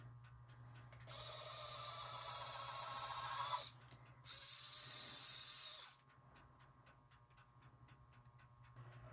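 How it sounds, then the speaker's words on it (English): A high-pitched drill bores holes in polymer clay earrings, whirring in two bursts, the first about two and a half seconds long, then a short pause and a second burst, over a low steady hum. "So when you're drilling your holes, don't go too close to the edge."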